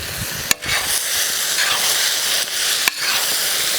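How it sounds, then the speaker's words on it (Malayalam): Giant clam roast stirred in a hot pan just after the flame is turned off, giving a steady close sizzle and hiss with a couple of sharp clanks of the spoon against the pan. "നമ്മളൊന്ന് ഇളക്കി സെറ്റാക്കി ഇതിൽ വെച്ചില്ലെങ്കിൽ അടി പിടിക്കും കേട്ടോ"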